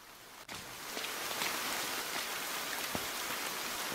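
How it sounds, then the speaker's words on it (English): Heavy rain pours steadily and densely in a Chilla's Art video game, a constant wash of close droplets with occasional sharper ticks, no voices. "It's raining heavily."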